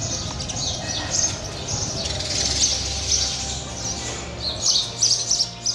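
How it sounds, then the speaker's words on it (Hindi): Flocks of house sparrows at a home chirp and twitter in a busy, continuous chorus, with brighter bursts of tweets near the end over a faint low background hum. "जगह जगह गौरैया के झुंड यहाँ आपको देखने को मिल जाएंगे।"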